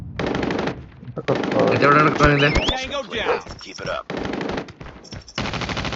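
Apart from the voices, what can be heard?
machine gun fire in video game Call of Duty Mobile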